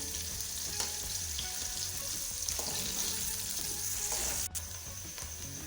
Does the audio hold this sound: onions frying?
yes